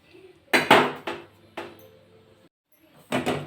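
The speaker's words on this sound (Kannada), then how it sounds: "ಈಗ ಒಂದು ಪಾತ್ರೆ ಇಟ್ಕೊಂಡ್ಬಿಟ್ಟು" A metal cooking pot set down in a kitchen gives a few sharp, close clanks and knocks with short pauses between them, loud against an otherwise quiet room.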